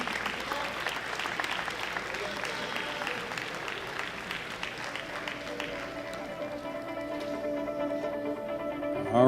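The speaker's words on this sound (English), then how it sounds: "Let's give them a nice round of applause one more time as we parade them out." Audience applause for powerlifters at the World Bench Press Championships 2024, steady dense clapping filling most of the stretch, gradually thinning, with an announcer's voice over the crowd.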